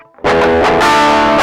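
A distorted electric guitar, processed through Ableton Live's distortion effect, strikes a chord and lets it ring, loud, thick and saturated with gritty overdrive, with no voices.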